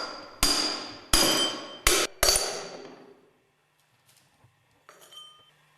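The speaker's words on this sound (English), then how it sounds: "Drive the grooved ball bearings and the distance bush out of the clutch drum." Four sharp metallic hammer blows ring out in quick succession as grooved ball bearings and a distance bush are driven out of a clutch drum resting on a wooden support, each strike decaying with a clanking ring, followed by faint light clinks.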